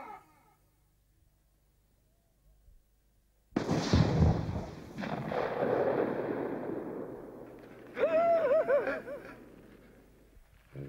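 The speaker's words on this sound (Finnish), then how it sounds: "Monen kilon paukku." After a quiet stretch, a sudden loud blast erupts and rumbles on for several seconds, followed by a burst of shrill, wavering cries.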